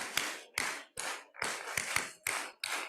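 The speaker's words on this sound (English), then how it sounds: "Give a huge applause for your founder," An audience at a university inaugural ceremony claps in unison for its founder: about eight strong, sharp claps in a steady, slightly uneven beat, each followed by a roomy wash of echo.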